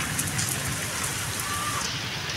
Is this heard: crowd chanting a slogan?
no